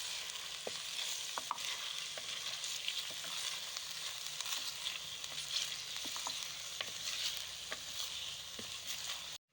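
Green chili paste frying in a pan for white chicken kadai, giving a steady, close sizzle with occasional stirring clicks and taps throughout and no voices.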